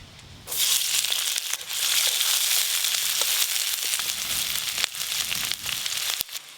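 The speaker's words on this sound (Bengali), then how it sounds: "পেঁয়াজ কুচি দেব," Chopped onion sizzling in hot oil with dried red chilli for a village-style red amaranth fry, a steady close crackling hiss that runs throughout with a few sharper pops.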